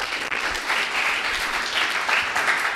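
Audience applause at a datathon finals event, a steady dense clapping from a sizeable crowd that fills the whole stretch without pause.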